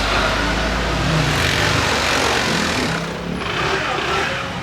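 A Honda ADV 160 scooter engine idles and runs steadily up close, a constant buzzing rumble with slight dips in level.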